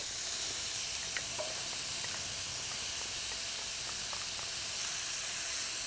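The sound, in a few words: onions and garlic sizzling with Johnsonville chorizo in pan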